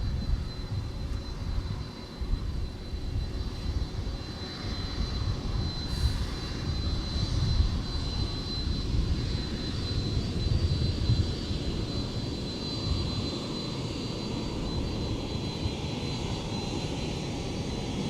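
A jet airliner taxis past on a taxiway at MSP airport, its engines producing a steady, fairly close roar with a thin high whine that holds evenly throughout.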